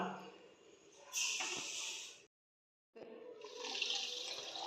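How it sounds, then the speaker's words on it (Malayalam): Water poured from a tap or jug into freshly squeezed orange and lemon juice with sugar, a steady splashing stream that pauses briefly and resumes, fairly close. "വെള്ളം ആവശ്യത്തിന് ഒഴിച്ച് കൊടുക്കാം."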